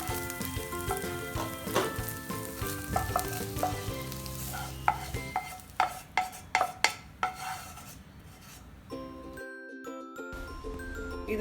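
Cauliflower fried rice with fried egg being stirred in a pan, a steady low frying rustle with sharp scraping and clinking strokes of a spoon against the pan in a quick run midway.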